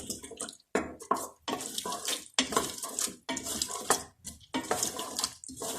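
Water is poured into a cooking pot holding toasted moong, masoor and chana dal for Punjabi-style daal, heard as splashy bursts mixed with clinks of utensils and cookware, broken by short pauses and close to the listener.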